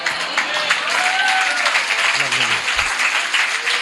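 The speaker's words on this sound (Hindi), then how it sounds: "तालियां बजाते हो, बहुत अच्छी बात है" Church congregation applauding, a steady broad wash of clapping that runs the whole length alongside a raised voice and some crowd noise.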